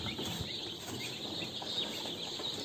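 Turkeys kept for sale in a lit poultry shed make faint, scattered clucks and soft calls over a low, steady room hum, heard from a distance with no talking.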